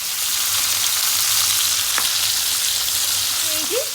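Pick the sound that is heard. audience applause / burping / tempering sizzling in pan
tempering sizzling in pan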